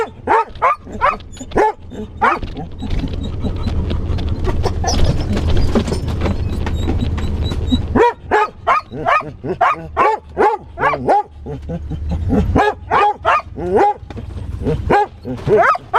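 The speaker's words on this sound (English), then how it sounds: "Sierra, this is not a barking area either" A dog barks repeatedly inside a car, loud close yips and bow-wows in quick bursts, with whimpers between them and a low engine rumble underneath.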